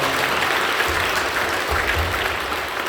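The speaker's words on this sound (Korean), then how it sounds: "박수해 주시면 감사합니다." A church congregation claps in welcome during a service, a dense, even wash of applause from many hands filling the room throughout.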